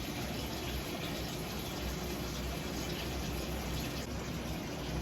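Tap water runs from a hose into a Fluval 207 aquarium tank, a steady, soft gushing fill that holds evenly throughout without pauses or voices.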